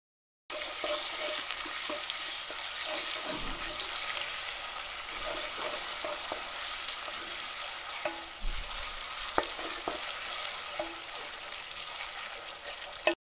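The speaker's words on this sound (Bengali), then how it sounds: "তেলটা গরম হওয়ার পর ২টি তেজপাতা ও আধা কাপ পেঁয়াজ কুচি দিয়ে দিচ্ছি।" Bay leaves, chopped onion and garlic paste fry in hot oil for a Bengali duck curry, a steady close sizzle broken by occasional stirring scrapes and small crackles, with no voices.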